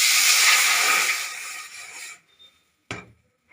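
A little water hits a hot pan on a gas stove turned low, giving a loud hiss that fades out after about two seconds, then a single sharp clack in near silence.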